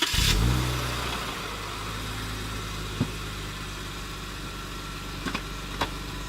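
A 4x4 Jeep Wrangler's engine revs loudly up close at the start, then settles into a steady rumbling drive as it sets off on an off-road beach track, with a few faint clicks and knocks.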